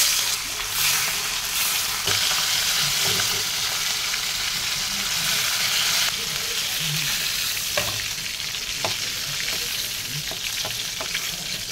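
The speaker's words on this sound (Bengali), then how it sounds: "প্রথমে মাছটা আমি ভেজে নেব।" Fish frying in hot oil in a home kitchen, where panch phoron and chopped onion are also going into the pan: a steady, dense sizzle and crackle runs throughout, with occasional sharper pops and spatters.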